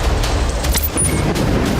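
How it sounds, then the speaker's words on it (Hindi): Explosions and gunfire hit the Al-Shifa hospital grounds in Gaza at night: a series of heavy booms and cracking shots in irregular bursts over a constant rumbling background. "धमाके और गोलीबारी की आवाजें साफ साफ सुनी जा सकती हैं।"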